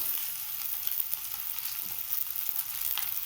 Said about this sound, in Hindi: इसे हाई फ्लेम पर ही पकाना है और इसे चलाते रहिएगा हल्का हल्का